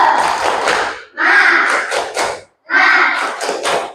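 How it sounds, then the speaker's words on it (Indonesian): A school class performs the tepuk semangat spirit clapping routine in three rhythmic bursts of group clapping and chanting, separated by brief pauses, loud and close. "Ayo siapkan tepuk semangat"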